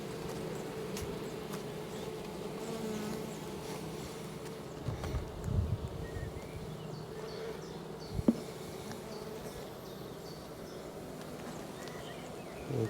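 Honeybees buzz around a garden beehive in a continuous low drone, with a few louder passes close by and faint outdoor background.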